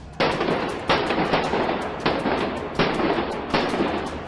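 Security forces fire tear gas shells and rubber bullets at protesters: a series of sharp launch bangs at roughly regular intervals, about five in a row, loud and nearby, each followed by a brief hissing tail.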